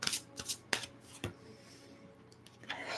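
Tarot cards being shuffled by hand during a reading, several quick crisp riffling bursts and soft flicks close up, quiet pauses between them, no speech.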